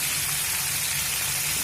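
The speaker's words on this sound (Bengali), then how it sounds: "দেখুন, ফুলকপি তো ভাজা হচ্ছে" Cauliflower frying in a pan gives off a steady, close, loud sizzle that runs without a break through the short clip, and no one speaks over it.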